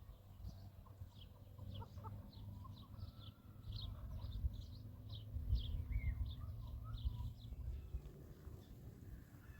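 Chickens in a garden cluck in quick, faint bursts at a distance, repeating throughout under a low, steady outdoor rumble.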